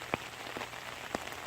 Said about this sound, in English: It's been raining steadily